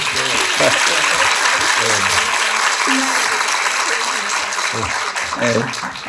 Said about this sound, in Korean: 위대한 예술가 고레다 히로카즈 감독님에게 박수 한번 우리.